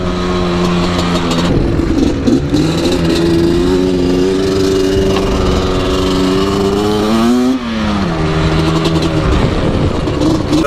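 A rebuilt 1997 Yamaha Banshee engine runs loud and close, holding a buzzing two-stroke drone with rising and falling revs, dipping briefly before picking back up.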